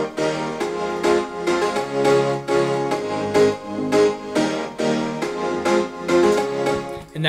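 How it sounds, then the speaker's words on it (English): Synths and piano in a song swell and duck in a steady side-chained pulse, the volume rising and dipping rhythmically with each beat, with no talking over it. "so that pulsing that's in it's something called side chain."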